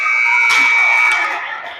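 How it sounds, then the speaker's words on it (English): A period-end buzzer sounds in an ice hockey arena during a Squirt A game, one loud sustained electronic tone lasting about a second and a half over a noisy crowd, then fading into arena ambience. "the buzzer saved us"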